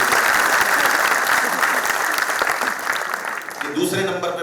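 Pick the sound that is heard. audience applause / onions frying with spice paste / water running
audience applause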